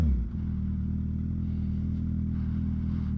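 A motorcycle rumbles steadily close by for a few seconds, with a deep, continuous engine drone and no voices.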